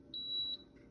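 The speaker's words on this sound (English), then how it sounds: "Sounds like our timer on this is finished." An electric egg cooker's timer signals the end of boiling with a single clear, high electronic beep lasting about half a second, close by and alone against a quiet room hum.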